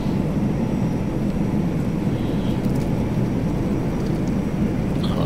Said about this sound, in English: nice sounds of us trotting along the runway there